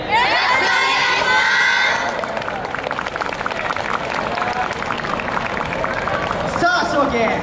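Crowd cheering and shouting at an outdoor yosakoi dance festival near Kyoto Station before the final performance, loud high-pitched voices and whoops sustained throughout, a brief dip in the middle before the shouting swells again.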